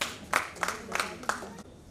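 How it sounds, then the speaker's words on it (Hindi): An audience at a formal ceremony claps for the chief guest. A few sharp, separate claps ring out close by at an uneven pace, then stop within a couple of seconds. "उनके लिए जोरदार तालियां।"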